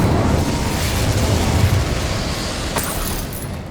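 An Incendio fire spell in Hogwarts Legacy goes off with a loud, roaring burst that stays close and full, then tails off into a sustained whooshing rumble.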